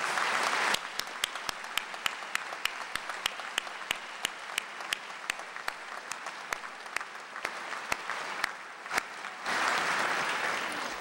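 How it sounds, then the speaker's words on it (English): Sustained applause from a large audience in an auditorium at a college fall commencement ceremony, dense and steady with sharp individual claps standing out, filling the whole stretch with no talk. "to give all of those people a big round of applause"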